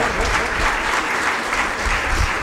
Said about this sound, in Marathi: तर जोरदार टाळ्या वाजवून या कार्यक्रमाची शोभा वाढवावी